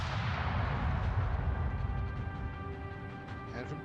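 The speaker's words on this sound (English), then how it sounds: "3 shells, 3 armor-piercing shells just smack into your ship." Naval shells from World of Warships fire and slam into a ship in a heavy, rumbling burst of artillery booms that rolls and fades over a few seconds, loud and close with no talk over it.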